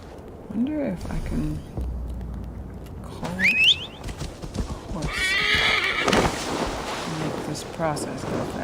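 Horse neighs and whinnies ring out repeatedly alongside clip-clopping hooves in the video game Assassin's Creed Valhalla, with other game sounds and some voice in the background.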